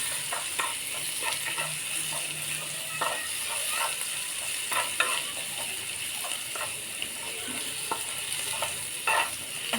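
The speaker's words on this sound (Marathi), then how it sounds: "ती पेस्ट टाकून घ्यायची अशी ह्याच्यामध्ये. ती अशी छान अशी भाजून घ्यायची." Spice paste roasting in a pan for a dry radish-pod vegetable dish: a steady close sizzle with soft scraping and stirring taps throughout, no voices.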